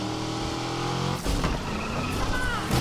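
A car spins out in the Need for Speed Unbound racing game: engine noise gives way to a sudden, rough burst of skidding and scraping that stays loud to the end.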